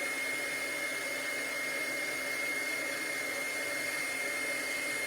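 A heat tool blowing hot air to melt clear embossing powder on a craft surface, a continuous loud fan whir with a steady whine, unchanging and close, with no talking.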